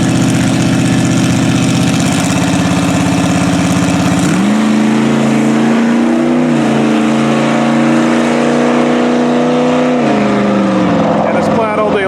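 Drag racing at the strip between a Tesla Model S Plaid with 19-inch wheels and a drag truck, a loud sustained engine drone with shifting pitch steps, a spoken voice over the din.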